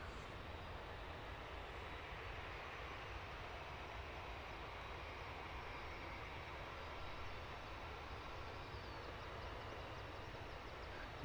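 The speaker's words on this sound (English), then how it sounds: "Yet another EasyJet A319. This is flight 2537, heading off to Geneva." An EasyJet Airbus A319 airliner departs London Luton Airport with a steady, faint, broad roar of jet engines. The sound is distant and unbroken throughout.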